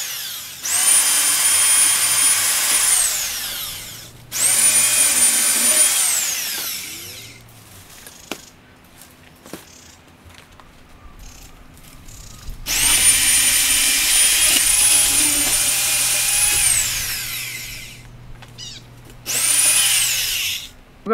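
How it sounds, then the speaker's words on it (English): A MacAllister MSHP2800D-2 electric garden shredder running in loud, close bursts of steady motor whine, cutting off between runs, with quieter gaps of clicks and low hum. "I'm just going to demonstrate how good this shredder is, this MacAllister shredder is"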